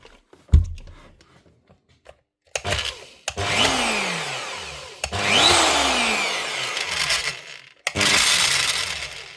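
A Metabo MFE 40 wall chaser switched on and running badly, grinding on something inside; a sharp clunk, then several loud motor bursts with falling whines as it spins down between runs, up close with no talk.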